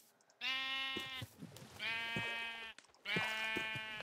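Three long, loud bleats from a horned sheep in the video game Terra Firma Craft, evenly spaced with brief pauses between them.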